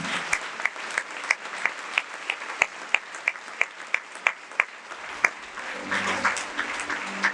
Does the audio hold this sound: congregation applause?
yes